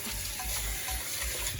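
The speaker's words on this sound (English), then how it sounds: "And then you're gonna, you wash your hand off" Water runs from a kitchen tap as hands are rinsed between coating shrimp in coconut and flour, making a constant close rush with a low burbling underneath and no speech.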